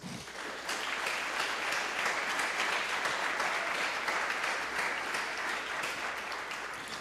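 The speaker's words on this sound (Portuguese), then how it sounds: "Bate palmas para Jesus" A church congregation claps hands during a worship service, a steady continuous patter of many hands at moderate distance that holds evenly throughout with no talking.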